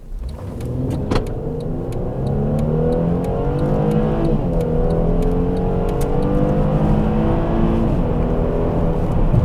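A Mercedes-Benz W212 sedan accelerates hard in sport mode, its engine note rising steadily through the gears as a loud, continuous drone heard from inside the cabin, with no talking.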